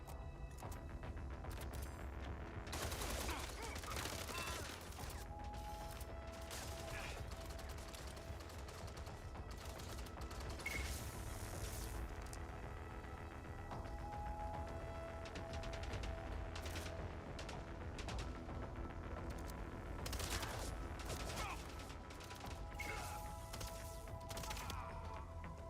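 Quiet, ongoing gunfire in the action game Mindseye, scattered bursts and single shots rising over a constant background of game sound and mechanical clatter, fairly distant and faint.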